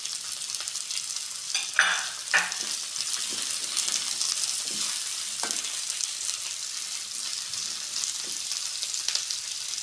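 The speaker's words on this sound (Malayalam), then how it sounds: "അതിലേക്ക് നമുക്ക് പച്ചമുളക് ഇടാം." Green chillies sizzle and fry steadily in a pan with onions for chilli chicken, a continuous bright crackle broken by a few louder stir scrapes near the start, close and alone without talk.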